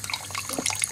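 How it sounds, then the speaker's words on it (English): Drips of liquid falling from a twisted bag of steeped grains for a chocolate stout homebrew, a quick cluster of small wet drops close by. "You just want to get some of the drips that are left over"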